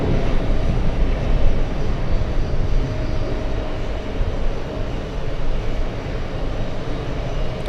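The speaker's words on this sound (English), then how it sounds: "The Korean A380 is taxiing right now." A Korean Air Airbus A380 taxiing at JFK airport gives off a continuous low jet-engine rumble and roar that holds steady throughout, with no voices.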